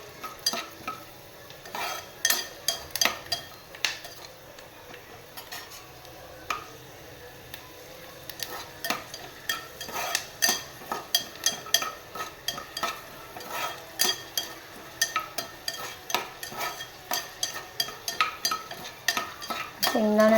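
Peanuts being dry-roasted and stirred in a pan for upma, with a spoon scraping and clinking against the metal in steady, irregular strokes, close and fairly quiet throughout.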